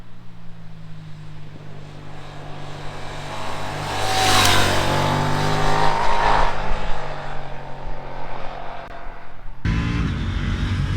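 KTM Duke 890 R motorcycle under way with its quickshifter, engine note rising steadily as it revs through a gear, then a sharp change and renewed pull, loud and close with strong wind rush.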